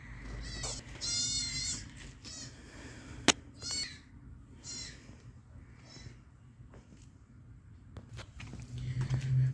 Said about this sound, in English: Got a goat and a pig over there.